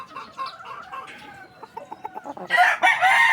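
A six-month-old yellow-legged Hatch gamefowl rooster crows nearby in a long, wavering call with clucking notes. A louder, harsh burst of noise follows.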